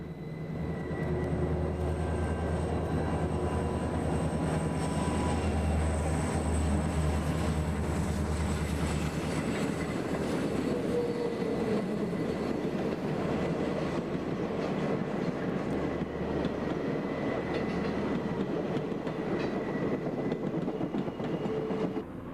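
A Southern Pacific 4449 steam-hauled train rumbles steadily around a sweeping curve along the Sacramento River, loud and continuous, with a deep engine drone and metallic squeals and rattling from the wheels.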